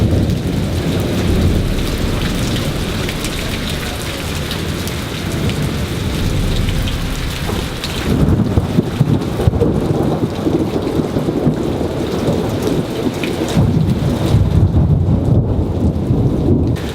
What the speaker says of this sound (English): That's serious rain, man.